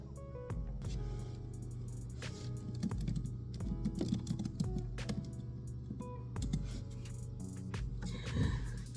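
Typing on a computer keyboard while logging in, a steady patter of close key clicks with occasional heavier taps over a low background hum.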